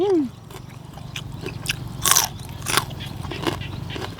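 Someone bites and chews crunchy spicy chicken feet papaya salad with fresh shrimp outdoors after rain, loud close crunches recurring at irregular intervals over a steady background hum.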